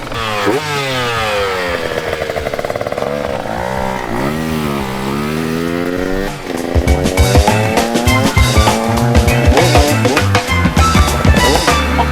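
A 2023 KTM 125 SX dirt bike engine sputters to life and revs unevenly, loud and close, its pitch rising and falling before settling into a rough, rattly idle.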